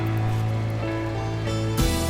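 Steady rain in the video game RimWorld as a colonist walks out to an animal pen, a continuous even hiss with a low game hum beneath, and a brief louder burst near the end.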